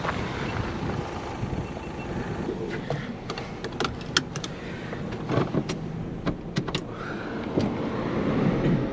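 A Perodua Viva kei car driven flat out on a country road, its small engine droning steadily under heavy wind buffeting from inside the cabin, with scattered clicks and rattles over about nine seconds.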